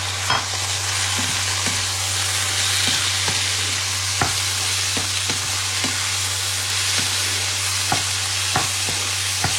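Betua greens (bathua) frying in a pan with browned onions, stirred steadily: a continuous close sizzle with a low hum beneath and regular scraping clicks of the spatula throughout, no talking.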